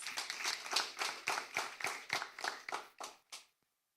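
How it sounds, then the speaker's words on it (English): An audience at a school debate competition claps for the debaters, a short burst of about a dozen distinct, fairly close hand claps in an irregular rhythm that thins out and stops abruptly. "Please give our debaters a round of applause."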